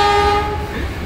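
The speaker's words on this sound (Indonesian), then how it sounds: "Digangguin klakson ini" A train horn blasts loud and close from a passenger train on a single-track line between Wonokromo and Mojokerto, one sustained tone fading into rumbling rail noise.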